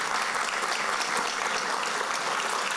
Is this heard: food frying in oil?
no